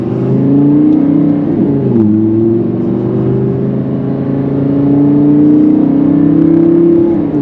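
An Audi R8 accelerates on the road, its engine rising in pitch, dipping briefly at a gear change, then climbing again in a loud, smooth, close-up whine with no talk.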